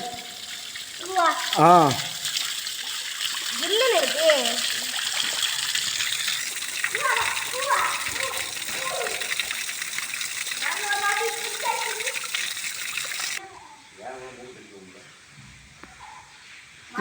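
Spring water gushing and splashing steadily nearby in a forest, with some voices or birdlike calls over the flow before it quiets near the end.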